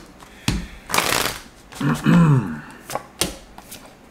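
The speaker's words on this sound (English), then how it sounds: "let's get two more shuffles here" Tarot cards riffle-shuffled in several quick bursts close by, with a brief voice-like sound in the middle and softer card taps between shuffles.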